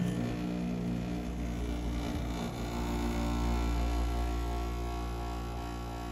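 A 1990 Emerson Quiet Kool window air conditioner with a Matsushita rotary compressor running, giving a steady low hum with a faint vibrating drone at a constant, moderate level.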